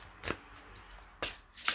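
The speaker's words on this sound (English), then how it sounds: "let's have a shuffle of the cards and see what comes out for you" A deck of colour mirror cards is shuffled by hand in a quiet room, with three short, crisp riffling bursts separated by brief pauses, soft and close.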